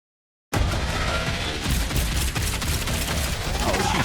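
Sustained gunfire and explosive booms in a Marvel Rivals game trailer, starting abruptly after a short silence and continuing as a loud, dense barrage mixed with music.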